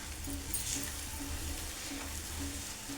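Tomatoes, onions and chillies frying together in a pan for an Andhra-style crab curry, giving a steady soft sizzle with faint stirring scrapes and no talk.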